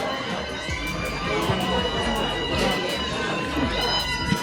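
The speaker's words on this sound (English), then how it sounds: "They're a vocal crowd." A vocal audience cheers and shouts in a steady, dense crowd roar that stays fairly loud and continuous throughout, with overlapping voices and no clear pauses.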